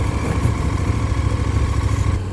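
A KTM 1290 Super Adventure S motorcycle engine runs at a steady idle, a close, loud and throbbing rumble. No one speaks over it.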